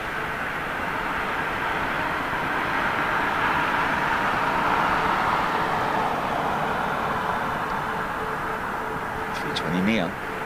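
An Airbus A320neo jet roars steadily at Heathrow Airport, a broad continuous engine rush heard from a distance, with a brief chirp near the end.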